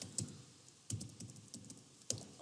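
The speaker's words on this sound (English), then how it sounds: "Now directly start typing with your comment." Keys on a computer keyboard tapped in short bursts, a few distinct clicks spread over a couple of seconds in a quiet room, close and fairly soft with no talking.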